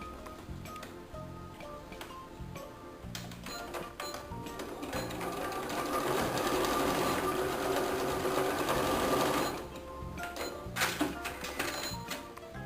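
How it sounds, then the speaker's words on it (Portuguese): Sewing machine stitching along fabric lining for a bookmark pencil case, a rapid mechanical whirring clatter that builds to a steady run, then slows to scattered ticks and clicks, close and fairly quiet. "E vou continuar a costura aqui deste lado."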